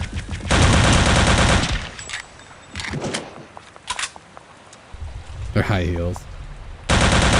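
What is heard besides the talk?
gunfire in Return to Castle Wolfenstein video game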